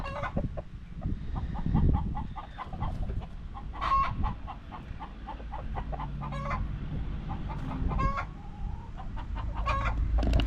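Hens clucking and cackling in repeated bursts right after laying an egg, with a rooster-like crow mixed in, fairly close in a backyard coop amid low background rumble.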